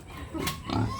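A fat organic native pig grunts on a farm, two close, low snorting grunts about half a second apart, loud and rough with no talking.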